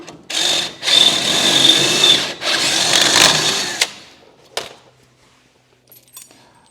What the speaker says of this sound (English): the chuck on my drill is getting wore out now